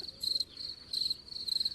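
Cricket chirping sound effect played during a live broadcast, with high, steady trilling pulses repeating in three clear bursts, fairly loud and alone without talk.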